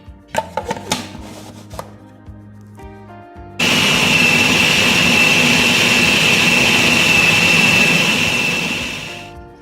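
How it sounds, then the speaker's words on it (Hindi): An electric food chopper whirs loudly and steadily, blending minced beef kofta mixture with an added egg, preceded by a few clinks and taps before the motor starts and runs for several seconds. "इस पॉइंट पर हम इसमें अंडा डाल देंगे और इसको फिर एक बार चॉप कर लेंगे ताकि अच्छी तरह से सब मिक्स हो जाए।"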